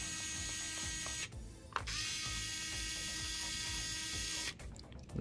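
Screws are loosened on a Lenovo ThinkPad T480 laptop, producing a close, fast clicking ratchet-like buzz in long runs with short pauses between turns.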